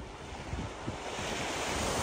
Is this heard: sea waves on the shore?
yes